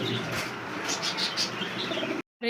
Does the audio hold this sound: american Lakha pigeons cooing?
yes